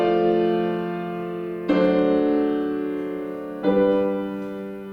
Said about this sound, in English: The diatonic version of the secondary dominant.